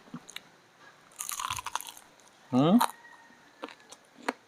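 Crunchy bite into turon, a fried banana roll, a loud crisp crunch near the middle, with softer chewing and mouth noises around it.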